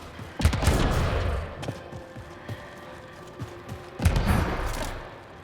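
Gunfire in Mass Effect Andromeda: two heavy bursts of rapid shots, one near the start and one later, with scattered single cracks and thuds in between.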